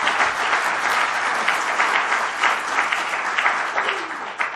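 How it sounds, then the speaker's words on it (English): A conference audience applauds steadily at an anniversary opening session on water and sanitation, dense and even clapping throughout, fairly close, with no talk over it. "I think this is worth an applause"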